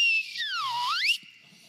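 A person imitates a shepherd's whistle: one clear whistle that holds, swoops down and back up, then cuts off, loud and close, followed by quiet.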